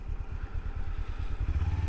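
Motorcycle ride on the road, a steady close low engine rumble with rhythmic pulsing throughout and a slightly stronger throb near the end.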